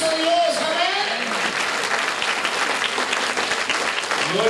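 A church congregation applauds during a Spanish-language sermon, a broad wash of clapping heard throughout with crowd voices and some held tones mixed in underneath.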